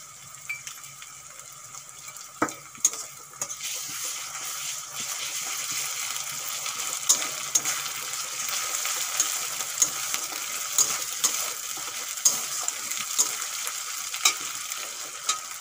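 Ginger garlic paste fries with browned onions in a pan, giving a steady bright hiss over about fifteen seconds, with scattered clinks and taps of a spoon and no voices.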